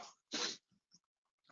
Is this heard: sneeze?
yes